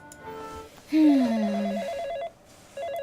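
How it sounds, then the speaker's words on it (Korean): A telephone bell rings in a Korean audio drama, sounding as bursts of pulsing electronic trills that pause briefly and then start again. "그때 전화벨이 울렸다."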